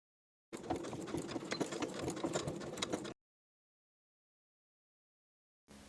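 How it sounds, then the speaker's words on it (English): A sewing machine stitches fabric for a sleep-set blouse tie piece, running steadily with a fast rattling hum for about two and a half seconds, then a stretch of silence and the start of a second short run. "sew it to the front tie piece from that wrong side"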